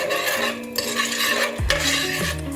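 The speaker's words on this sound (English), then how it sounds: "Take the spoon, stir it up, mix it up here" A spoon stirs salted popcorn kernels and oil in a pot, making a loud close scraping swirl with metallic clinks against the pot over a steady sizzle and no talking.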